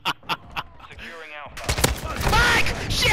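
Modern Warfare II video game gunfire: a few spaced shots open, then a thick burst of rapid fire builds and grows louder toward the end, with player voices mixed in over the shooting.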